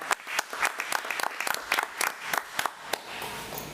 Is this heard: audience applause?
yes